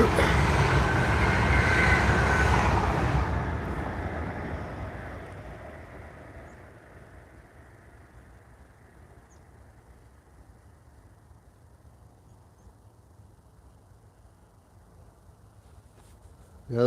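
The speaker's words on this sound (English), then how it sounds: "That's probably stopped at Chessie Street and it's accelerating away." A train on the East Coast Main Line accelerates away from Chessie Street station. A loud rumble opens the clip and then fades steadily into a distant hum.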